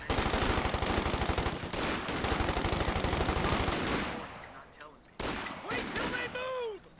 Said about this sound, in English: there's some Tommy gun